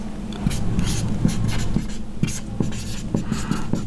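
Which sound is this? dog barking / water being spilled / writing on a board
writing on a board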